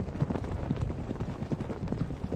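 Horse hooves clip-clop in a steady, close rhythm as a mounted officer rides behind the lines in the Napoleonic battle game Scourge of War Waterloo, with no voices.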